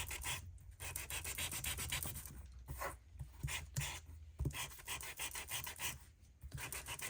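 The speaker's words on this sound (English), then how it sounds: "I'm going to go around and just kind of grunge it up a little bit with my little sanding tool" A small handheld sanding tool scuffs across Tim Holtz cardstock in quick, repeated rasping strokes, soft but close and steady throughout, with no voices.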